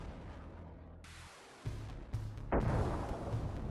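A HIMARS rocket strikes a Russian Grad rocket launcher position and sets off its ammunition. Three heavy blasts follow in quick succession over constant rumbling noise, each booming and then trailing off.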